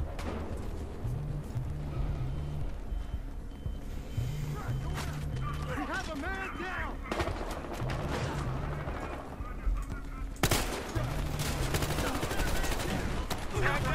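Bursts of automatic gunfire and scattered shots in the video game Battlefield Hardline, repeating in rhythmic volleys under game music and effects, with a player talking over it.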